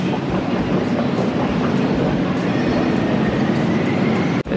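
Metro train in an Amsterdam underground station: a loud, continuous rumble and roar of rolling carriages, with rhythmic faint clicks and a sudden short drop at the end.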